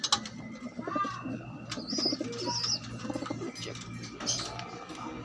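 Blue bar pigeons cooing close by: soft repeated coos with scattered chirps and a brief flutter of wings over a low steady hum, with a faint voice in the background.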